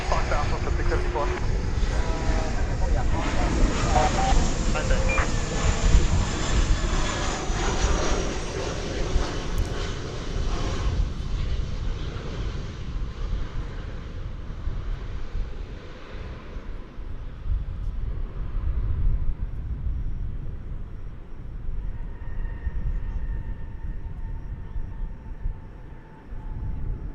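An Airbus A319 passes by with a loud, broad engine roar that slowly fades and thins, while radio chatter and a voice are heard beneath it.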